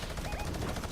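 Gunshots in a competitive video game match, a rapid rattle of repeated shots in a short burst, mixed with a commentator's voice over the action.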